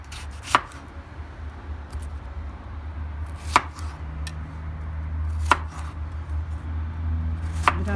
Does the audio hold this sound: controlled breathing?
no